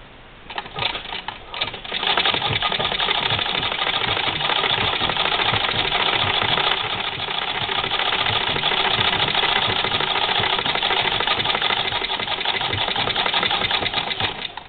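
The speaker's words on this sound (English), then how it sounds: "the fabric, if I can get that in the camera, that's what I'm sewing through. 4 layers." A sewing machine runs steadily, close and loud, stitching through four thick layers of sweater fabric, with a fast, even mechanical whir that goes on almost without a break after a short start.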